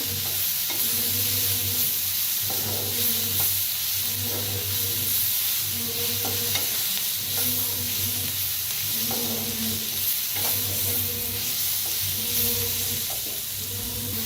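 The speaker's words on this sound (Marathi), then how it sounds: "आता थोडंसं भाजूया, कोथिंबीर टाकलेलं आहे ना त्यापायी थोडंसं भाजूया।" Egg masala with chopped coriander being dry-roasted in a pan on the stove, heard as a steady broadband hiss with a regular rhythm of scraping spatula strokes, close and continuous without speech.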